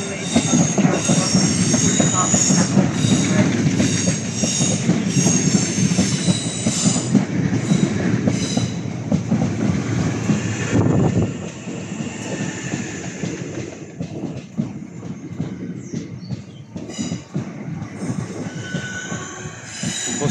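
Train passing through Sevenoaks station platform, loud rumbling with squealing wheels and clattering over about ten seconds, then fading to a quieter roll as it moves away, no talking.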